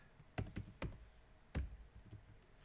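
Several quick keystrokes on a computer keyboard, a short irregular burst of close, crisp taps with a brief pause before the last few.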